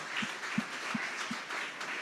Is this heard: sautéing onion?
no